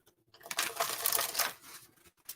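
Tarot cards being shuffled by hand during a psychic reading, a close, crisp riffling burst lasting about a second between brief quiet gaps.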